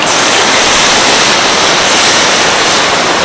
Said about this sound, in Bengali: এবার দিয়ে দিচ্ছি জল